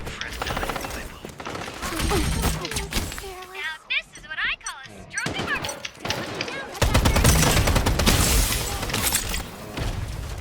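Gunfire in the anime shooter game Strinova, loud repeated shots and automatic bursts mixed with explosions and mechanical clatter, with voices talking over the action.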